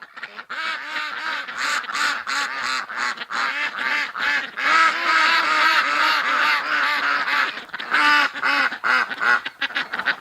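A flock of ducks quacks outdoors in winter, loud and continuous, with many overlapping nasal calls in a steady rapid rhythm and no clear pauses.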